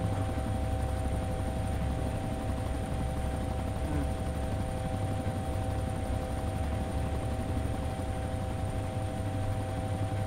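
Helicopter in the survival video game DayZ, a steady droning engine and rotor hum that stays loud and continuous throughout with no talk over it.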